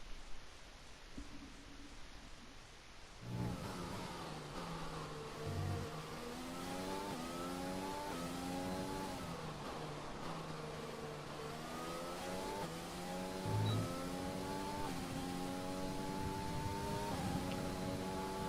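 An F1 race car heading out on a lap in the F1 2020 video game, its high-pitched engine revving up through repeated gear changes, each climb in pitch stepping back down, loud and continuous with a faint tire noise.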